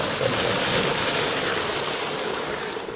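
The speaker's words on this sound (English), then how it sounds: "So this is my little reverse osmosis rig" A small reverse osmosis rig processing maple sap runs with a steady, loud broadband whoosh like rushing water, holding constant without pauses and tapering slightly toward the end.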